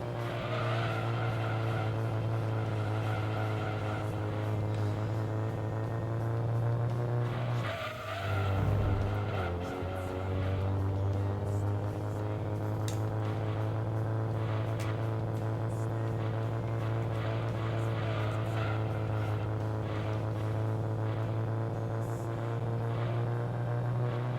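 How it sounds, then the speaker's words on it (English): An idling car engine in the racing video game Gran Turismo 2, a steady low hum with harmonic overtones that briefly dips midway before settling back into a constant drone. "Sounds like an idling Honda Civic."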